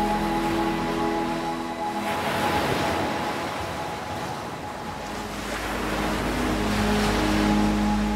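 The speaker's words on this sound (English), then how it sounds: "Whether it be the sounds of the waves" Ocean waves rolling and washing in, a continuous roar that swells and fades, with wind rumbling against the microphone.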